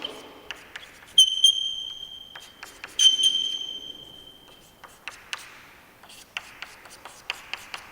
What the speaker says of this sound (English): I will write one more molecule.